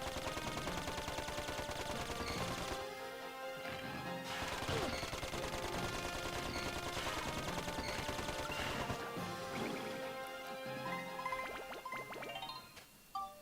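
Dense game gunfire in Dark Cloud 2, a continuous barrage of many rapid bullet shots with crashing impacts and bright chiming tones over busy background music, loud throughout and thinning near the end.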